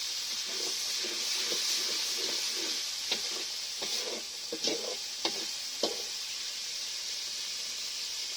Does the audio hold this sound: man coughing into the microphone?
no